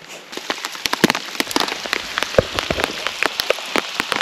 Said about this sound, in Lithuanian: Ir vėl lietutis.